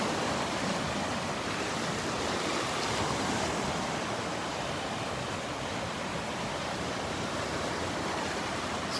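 Surf at Delnor-Wiggins beach, with ocean waves washing ashore in a steady, broad rush that holds at an even level throughout, with no voices.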